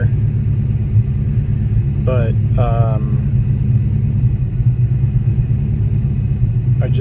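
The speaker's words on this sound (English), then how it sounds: "just got in and turned the car on and it started right up" A Ford Fox body Mustang engine idles steadily with a loud, close, low rumble throughout, while someone speaks briefly over it.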